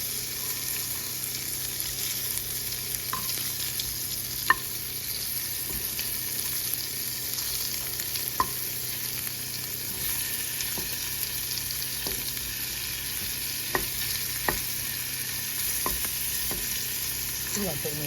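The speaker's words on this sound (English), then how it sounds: "I gotta flip my pancake over there." Banana pancakes frying in a pan with a steady low sizzle, broken by sporadic light clicks and scrapes of a spatula against the pan as they are flipped; no voices.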